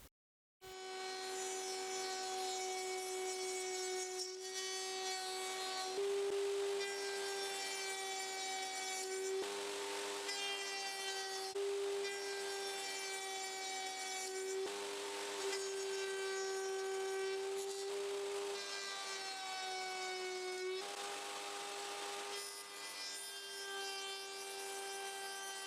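Router cutting wooden finger joints on a homemade jig, a loud sustained high-pitched whine with slight pitch shifts as each pass is made, running alone without talk.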